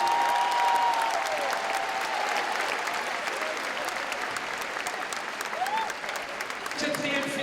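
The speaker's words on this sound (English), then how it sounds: "Applaudissements pour mademoiselle Akio Noguchi." A crowd at the 2012 IFSC Climbing World Championships women's bouldering final in Paris applauds climber Akiyo Noguchi, with sustained, slightly distant clapping throughout and an announcer's voice over it.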